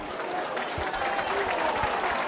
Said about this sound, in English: drawing a huge round of applause on debut